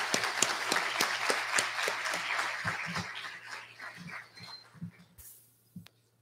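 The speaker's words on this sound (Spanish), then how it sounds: "un fuerte aplauso" Applause from a graduation ceremony crowd, loud at first and then thinning into scattered single claps that fade out, with a steady low hum running underneath.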